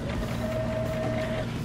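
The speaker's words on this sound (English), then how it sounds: "sew with a straight stitch" A sewing machine stitches fabric with a straight stitch, giving a continuous close mechanical whir with a faint steady hum throughout and no voices.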